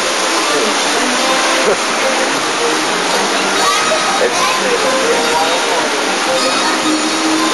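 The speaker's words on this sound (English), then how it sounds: "one of the many waterfalls we didn't go down" Water pours down a waterfall on the Splash Mountain log flume ride, a loud, continuous, close rushing hiss that fills the whole stretch without a break.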